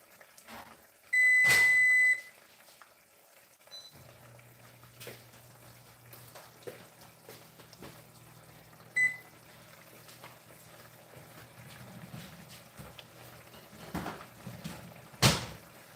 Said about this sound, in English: I'm just going to toss this in the microwave real quick.